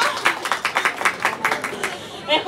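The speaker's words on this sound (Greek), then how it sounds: "Ένα χειροκρότημα." Audience applause at an outdoor street food event, a burst of many hands clapping in quick uneven rhythm for about two seconds, fairly close and moderately loud, with crowd murmur behind it.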